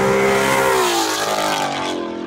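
A loud Ford Mustang with an ESS supercharger and Corsa exhaust revs hard with a raspy exhaust note, the pitch rising and then settling over a couple of seconds, close by and with no talking.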